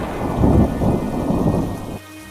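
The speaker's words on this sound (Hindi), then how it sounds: "जोरों की बारिश होने लगती है और बिजली कड़कने लगती है" Heavy rain pours down as thunder rumbles deeply beneath it in an animated horror story set near a village well at night, a loud, dense wash of sound that cuts off abruptly near the end.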